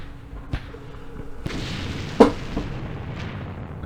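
Artillery fire in the Vietnam War strategy game Campaign Series Vietnam, set at the Battle of Pleiku in 1968, heard as a few sharp, distant booms spread over a low background rumble, with one stronger blast standing out.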